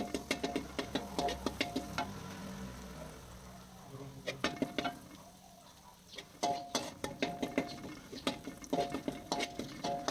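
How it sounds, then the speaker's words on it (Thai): Garlic sizzles in hot oil in a wok for a crispy pork and chili-salt stir-fry, with a steady frying hiss broken by repeated sharp clanks and scrapes of a utensil against the pan, close and fairly loud. "ตอนนี้น้ำมันร้อนอยู่ ใส่ กระเทียมลงไป"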